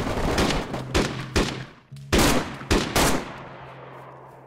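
Bursts of gunfire crack out in DayZ, several loud shots and short volleys with echoing tails in a deathmatch, nearby and mostly free of talk.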